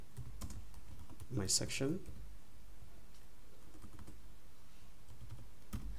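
Keystrokes on a computer keyboard as a section name is typed into SAP2000 structural software, a quick burst of close clicks around the middle under a man's speech, with sparse taps later.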